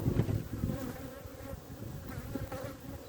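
Honey bees buzz steadily around an open six-frame hive during an inspection, a dense close droning hum that continues throughout with no talk.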